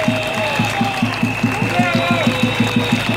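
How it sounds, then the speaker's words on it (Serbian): A crowd at a Belgrade street protest claps in a steady, even rhythm, the beats loud and regular, with voices and whistle-like tones rising above them. "ajmo jedan veliki aplauz za Aleksandra Obradovića"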